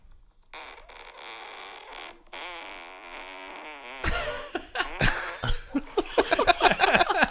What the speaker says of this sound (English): that is about a 7 or 8 second fart